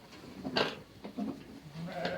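Young lambs on a farm bleat in short, separate calls at close range, three or four cries spaced apart with soft background noise between them.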